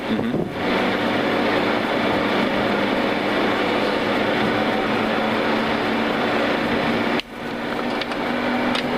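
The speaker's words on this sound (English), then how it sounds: "You can hear the engines running." Aircraft engines run with a constant, loud whining roar that holds steady throughout, briefly dipping once before continuing.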